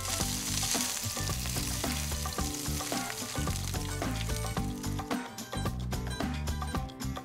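Eggplant slices in a generous amount of oil fry with a continuous sizzle that sits under loud background music playing throughout.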